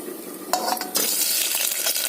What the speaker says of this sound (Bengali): আমি প্রেশার কুকারে তেল দিয়ে দিয়েছি এবার দেবো চিংড়ি মাছ